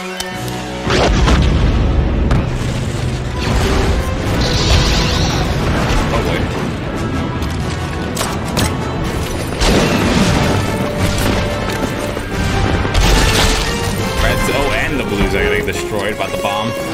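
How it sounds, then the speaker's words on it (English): Animated bomb explosion from a Team Fortress-style short, loud rumbling booms and crashing debris mixed with music and dense voices talking throughout, sustained and heavy. "Destroyed by the bomb."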